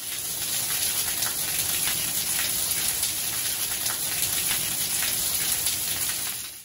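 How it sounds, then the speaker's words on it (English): Steady heavy rain falling on a dreary day, a dense continuous hiss of drops that holds evenly throughout, with no talk over it. "It is another very rainy and dreary day here today"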